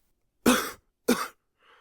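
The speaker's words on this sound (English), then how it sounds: "He coughs." Two sharp coughs close by, about half a second apart, then a faint throat sound at the end in otherwise silent surroundings.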